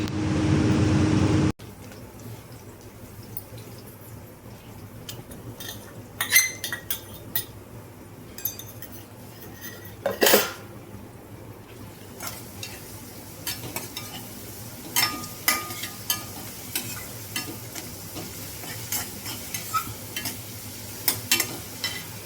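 Onion and ground paste frying in oil in a pan while being stirred for a South Indian breakfast side dish, with a steady soft sizzle and repeated sharp scrapes and clinks of a spoon against the pan.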